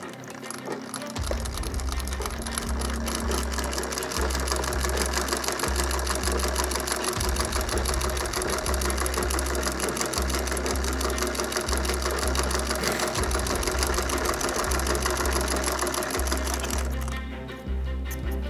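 A sewing machine stitches the outseam of a pair of pants, running in a fast, even mechanical chatter with a regular low pulsing beat, close and loud, stopping near the end; no talk.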